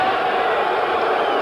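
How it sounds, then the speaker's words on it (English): A boxing arena crowd at the Ali–Chuvalo rematch fills the air with a steady, dense roar of booing and jeers, continuous and fairly loud throughout. "Boos coming up from the crowd at the second Coliseum, but unnecessarily so"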